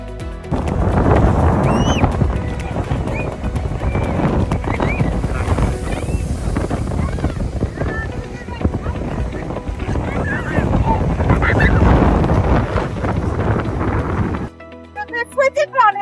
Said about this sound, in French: Ce jour-là, il y a beaucoup de vent et nous luttons pour braver les éléments.